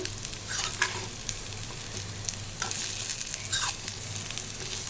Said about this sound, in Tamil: நல்லா நம்ம திருப்பி திருப்பி போட்டு நல்லா வறுக்கணும் இதை